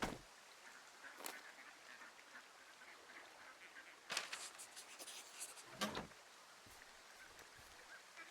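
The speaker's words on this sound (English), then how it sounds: "I can hear ducks." Ducks quack faintly in the forest ambience of the video game Firewatch. The soft, scattered calls sit in a quiet outdoor background, with a few brief rustles between them.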